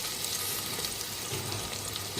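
Tomatoes and green chillies frying in a pan for sambhar, a steady close sizzle with faint stirring scrapes, constant in level and free of speech.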